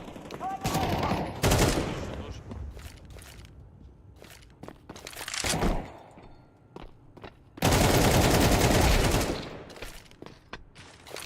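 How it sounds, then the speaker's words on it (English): Grenades, a flashbang and smoke are thrown in a counter-terrorist shooter game: several sharp, loud blasts and a long rushing hiss come between quieter gunfire and footsteps. "Throwing smoke. Throwing the flashbang. Flashbang. Grenade out."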